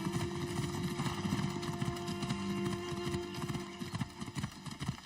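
Horse hooves clip-clop steadily in Assassin's Creed Odyssey, a loud, continuous run of hoofbeats over a dense game soundscape, slightly thinning toward the end.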